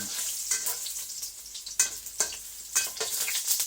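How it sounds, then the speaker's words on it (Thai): Garlic dropped into hot oil crackles and sizzles up close, with sharp bursts of spattering and stirring clatter over a constant frying hiss. "ขั้นแรกเราก็ใส่น้ำมันพอน้ำมันร้อนก็ใส่กระเทียมนะครับ"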